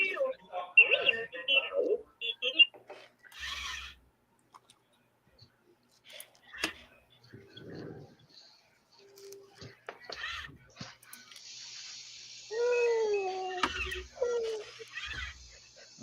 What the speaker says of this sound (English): That is R2, and my two R2s are now talking to each other